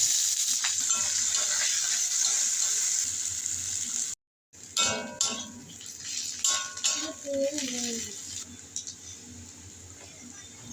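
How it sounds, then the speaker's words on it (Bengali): Sliced onions and green chillies frying in hot oil with tempering spices for a Bengali fish curry, a steady close sizzle with stirring and scraping of a spatula against the pan, briefly cut off midway. "তেলের মধ্যে দিন ফোড়ন ফোড়ন একটু ভাজা হলে দিন পেঁয়াজ আর কাঁচা লঙ্কা"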